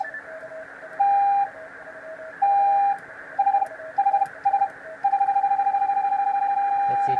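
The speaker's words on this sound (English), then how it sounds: "We send lots of different beeps." Morse code beeps sent in short and long tones of one steady pitch, with sustained dashes, clusters of quick dots, then a long run of rapid keyed pulses over a faint background hum.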